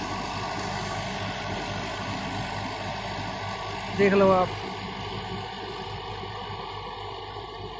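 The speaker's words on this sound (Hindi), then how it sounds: "तो ट्रैक्टर बहुत अच्छा चल रहा" A Sonalika DI 60 RX tractor with 16-inch tires runs steadily while pulling an 8-foot rotavator through a wet, puddled field, its engine holding a constant mid-pitched drone as someone speaks briefly over it.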